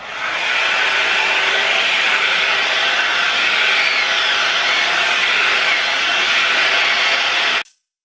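A Babyliss Big Hair rotating styler blows hot air steadily on rolled hair strands, a loud close whooshing motor hum that holds for several seconds and then cuts off abruptly, with no talking.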